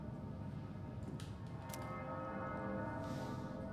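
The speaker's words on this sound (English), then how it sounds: "It sounds like a bell, but where's it coming from?" Bell ringing in the video game Persona 3 Reload, with a couple of bright chime strikes over a dense, steady game ambience that continues throughout.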